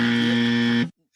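A single loud, steady electronic buzzer tone sounds during a hockey podcast, holding for nearly a second before cutting off abruptly into silence.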